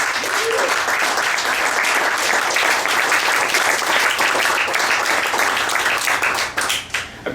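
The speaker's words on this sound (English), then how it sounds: "everybody at Coach House deserves a big round of applause for putting this together" Audience at a bar poetry celebration and book launch gives a sustained, loud round of applause that continues evenly before tapering off at the end.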